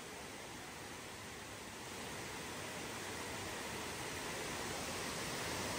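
Tirathgarh waterfall in Kanger National Park, Chhattisgarh, gives a steady, dense roar of falling water that swells slightly over a few seconds, with no voices.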